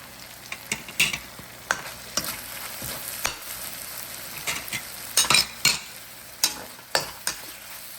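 Freshly crushed garlic and ginger fry in a pan with a steady sizzle while a spatula scrapes and taps the metal in irregular bursts, close up and alone.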